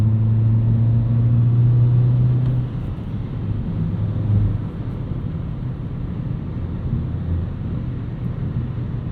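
A 2025 Volkswagen Jetta GLI with a manual gearbox pulls hard in fourth gear, its engine a steady low drone with a rising tone in the opening seconds, then settling into broadband road and wind rumble, loud and continuous with no talk.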